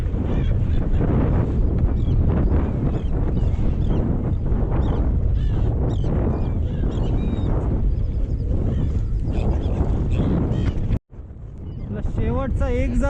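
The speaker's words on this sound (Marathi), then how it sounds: "सगळं वारा पण भरपूर आला अचानक आता" Strong, sudden wind buffeting a fishing boat at sea during stormy weather, a loud, gusty roar over the microphone mixed with water and engine noise, with voices talking throughout and a brief dropout near the end.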